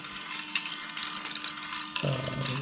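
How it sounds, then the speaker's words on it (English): Plastic balls clatter and tick through a 3D-printed Marblevator marble machine, a steady ratcheting mechanical rattle with a lower rumble joining near the end, close and continuous with no talk. "it moves marbles around, or in this case, little plastic balls"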